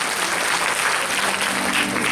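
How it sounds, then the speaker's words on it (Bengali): Audience applause at a Sree Production stage event, a dense, steady wash of many hands clapping that holds loud and continuous for about two seconds with no talk over it. "একটা জোরে হাততালি ওর জন্য"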